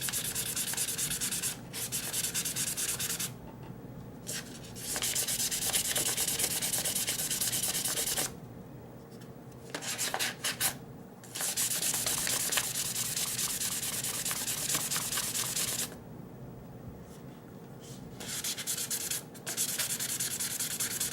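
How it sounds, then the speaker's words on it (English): Sanding the G10 handle of a Cold Steel Large Lawman knife with 1000 grit sandpaper, repeated close, steady rasping strokes in long runs separated by short pauses, with no speech. "now we hit it with the 1000 grit. Go back to polishing it up again."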